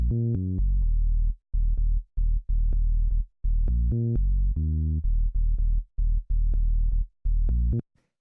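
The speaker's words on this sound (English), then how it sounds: "the first sound we have here is the bass" A synth bass line for a 126 BPM minimal house track plays a deep, loud pattern of short and held notes with choppy gaps, repeating across the bar and heard without other sounds.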